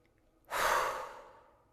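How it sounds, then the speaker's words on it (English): A single deep breath drawn in through the nose and let out again during a guided energy meditation, a close, soft and airy rush that swells quickly and then fades slowly, with no speech. "Now you're going to take a deep inhale through your nose and just let out an exhale"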